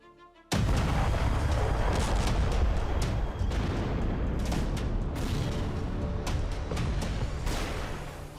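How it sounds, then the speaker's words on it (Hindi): In news footage, a road in South Korea is blown up by a sudden, loud explosion. A deep, sustained roar and rumble follows and slowly fades over several seconds, with no speech. "एक दिन पहले ही उत्तर कोरिया ने दक्षिण कोरिया की सड़क धमाके से उड़ा दी"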